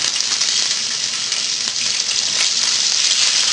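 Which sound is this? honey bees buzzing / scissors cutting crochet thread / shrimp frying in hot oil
shrimp frying in hot oil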